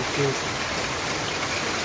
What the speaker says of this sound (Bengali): বৃষ্টি থামতেছে না, পুরা পড়তেছে যে।